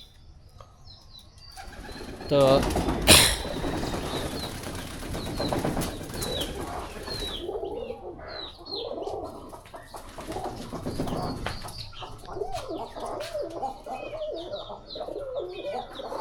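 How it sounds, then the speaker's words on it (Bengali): Domestic pigeons kept at home, a flock of large adults and young birds, coo repeatedly at close range, with a loud burst of flapping wings early on and a single spoken word. "14টা হলো বড় বড় কবুতর।"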